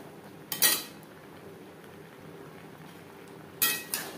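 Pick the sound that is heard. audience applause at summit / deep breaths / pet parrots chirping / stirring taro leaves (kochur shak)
stirring taro leaves (kochur shak)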